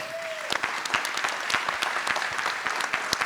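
Audience applause at a community federation membership meeting, a steady patter of many hands with sharp individual claps scattered across the whole stretch, close and moderately loud.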